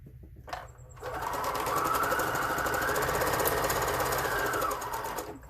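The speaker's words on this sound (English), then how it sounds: "I'm going to sew across the bottom down here" A sewing machine stitches across the bottom of a fabric tube for a gnome doorknob ornament, running steadily for about four seconds after a short start, loud and close with no talking.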